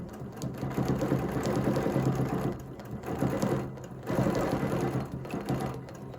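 A sewing machine stitches a quilt with a ruler foot, its fast, steady whirring hum running in three or four long bursts with short pauses between them, close and clear, with no talk.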